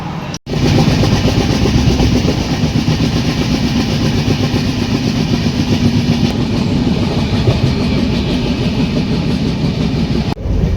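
The 12517 Garib Rath Express on the Kolkata to NJP route, heard from inside as it runs on rails; a loud, steady rumble with rhythmic clickety-clack persisting throughout, briefly cutting at the start and end.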